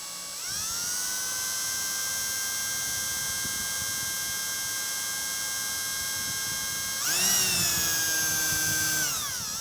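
A drill bores a pilot hole into very hard Tesla Cybertruck steel lubricated with WD-40, a loud, steady high-pitched whine that holds for several seconds, then briefly dips and surges in pitch near the end.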